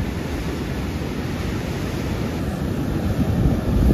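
A stormy sea with breaking waves, heard as a continuous broadband roar with wind buffeting the microphone, swelling slightly louder near the end.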